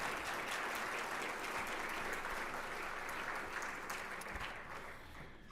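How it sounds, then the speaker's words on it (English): Warm round of applause from guests at a Duke Law scholarship luncheon, a dense, even clatter of many hands that holds steady and then tapers off toward the end. "maybe you'll also acknowledge the cheers of the crowd"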